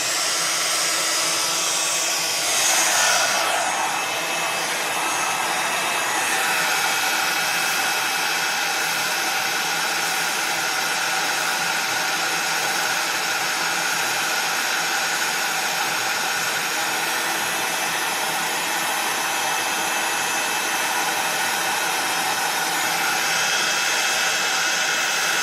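Heat tool blowing steadily to heat-set wet paste on an art journal page, a loud continuous whooshing roar that holds for the whole stretch with no talking over it.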